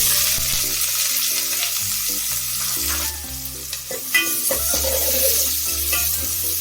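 Onions for rice kichadi fry in hot oil with a loud, steady sizzle close by. Spoon stirs and scrapes break in every so often.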